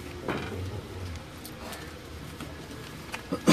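Pigeons on a rooftop in Gujrat give a few soft coos with light background rustling and a couple of short knocks toward the end.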